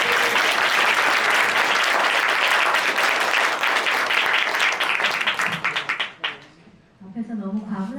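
Audience applause at a library research center launch ceremony in a hall, dense and loud clapping that carries for about six seconds, then dies away, after which a person starts talking.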